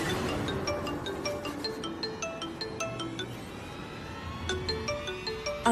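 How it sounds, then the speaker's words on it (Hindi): A phone rings in a domestic scene inside a stationary car that won't start, its repeated electronic ringtone tones sounding steadily over a busy background for several seconds, with no speech. "निखिल का फोन होगा"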